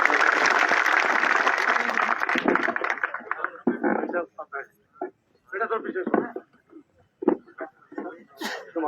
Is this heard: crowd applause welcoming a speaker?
yes